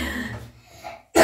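A child's short burst of coughing with throaty breaths, close to the mic, ending in a sharp harsh cough.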